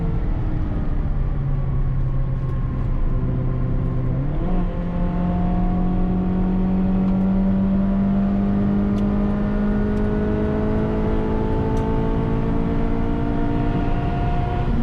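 A cheap Honda Civic race car accelerates hard out of a corner at Silverstone, its engine note climbing steadily in pitch through a gear, loud and continuous with a droning whine and no talk.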